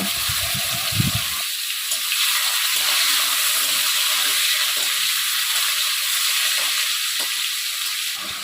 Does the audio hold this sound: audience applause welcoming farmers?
no